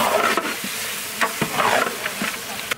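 Meat is stirred with fried-down spice paste in a pot for a chicken biryani-style tehari, giving close, busy scraping strokes and a few sharp clacks over a continuous sizzle.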